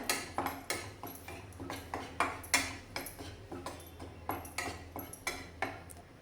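Flour is dry-roasted in a pan for gond (edible gum) sweets, and a spatula scrapes and taps the pan in a quick, uneven rhythm of light, quiet clicks with no talk.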